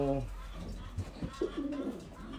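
Pigeons coo softly at a pigeon loft, a few low throaty calls over a quiet close background.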